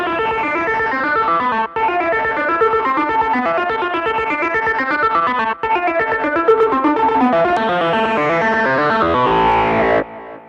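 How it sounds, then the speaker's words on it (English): A melodic techno lead line runs in quick repeating notes through heavy Devil Lock distortion, loud and buzzing with two brief dropouts before it cuts off. "The second instance of Devil Lock only turns on once the melody plays on the lower register"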